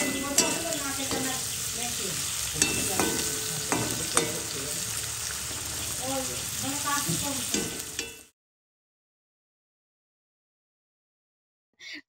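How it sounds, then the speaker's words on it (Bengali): Cashews and raisins fry in a pan with a steady sizzle for about eight seconds, stirred with scattered scraping and clinks of a utensil, then cut to near silence with a brief sound at the very end. "আমি এখন কাজু কিশমিশটাও ভেজে নিচ্ছি"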